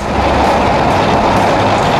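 The T435 003 locomotive runs on the track, producing a loud, close, continuous rumble and rattling wheel noise for the whole stretch, with no talk over it.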